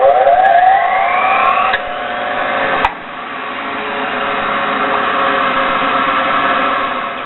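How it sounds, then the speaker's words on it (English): A half horsepower grinder motor runs with a steady, close electric hum and whine, alone and unbroken apart from a brief click near the start. "Here's a 1/2 horsepower grinder motor."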